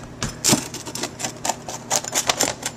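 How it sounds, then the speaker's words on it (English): A pizza cutter clicks and crunches through a whole grain pizza in a series of sharp, close, irregular cuts and taps, fairly quiet, with no voices. "Here's the pizza cutting implement. And we're going to just cut it"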